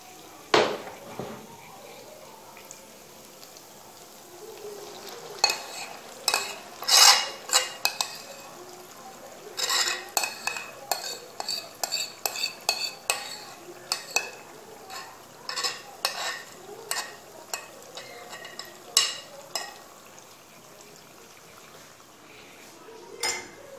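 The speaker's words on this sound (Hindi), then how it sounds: "अब मैं इसमें ऐड कर रही हूँ जो हमारी मैरिनेटेड चिकन थी" Marinated boneless chicken stir-fried in a pot for a restaurant-style handi: irregular metal spoon clanks and scrapes against the pot over a light sizzle, close and sharp, with long pauses between bursts and no talking.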